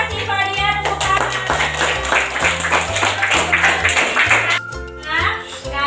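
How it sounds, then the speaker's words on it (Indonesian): Children in an Indonesian classroom clap for a classmate named Fadia, a brisk round of applause under rhythmic tapping and young voices. "Terima kasih Fadia, tepuk tangan"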